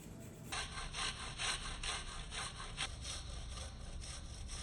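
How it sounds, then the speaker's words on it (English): Garlic cloves freshly grated into a bowl, a steady run of rough back-and-forth rasping strokes, close and fairly loud, with no talking. "Freshly grate 1 to 2 cloves of garlic in the bowl."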